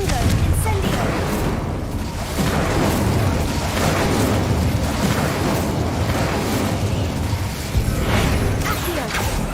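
Confringo and Incendio spell blasts in Hogwarts Legacy, a steady stream of booming, whooshing magical explosions with fiery crackle, loud and continuous under a dense game soundscape.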